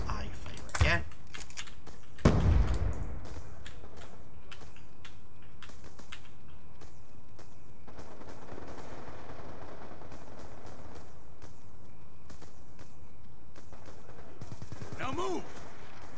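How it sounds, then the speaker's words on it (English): Gunfire in a Call of Duty: Black Ops II multiplayer team deathmatch: two sharp, loud shots ring out near the start over a steady background hum. A later faint burst follows, along with quieter clicks and rattles. "I miss, I fire again."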